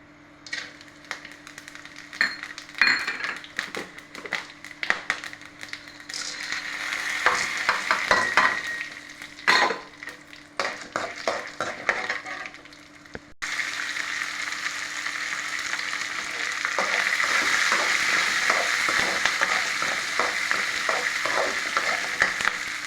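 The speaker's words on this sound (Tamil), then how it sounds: "இதெல்லாம் வதக்கி குழம்பு செய்யலாம்" Vegetables sauté in a pan for a kuzhambu made with sprouted green gram and potato, giving a steady sizzle with repeated scraping and stirring strokes that grow denser and louder in the second half, with no voices.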